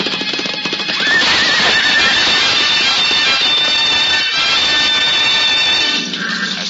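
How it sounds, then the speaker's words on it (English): Galloping horses with loud neighing from an old-time radio drama of Ivanhoe, a dense, continuous rush of hooves and whinnies filling the whole stretch at close range without any talk. "flying hooves pounding the turf like drums of doom"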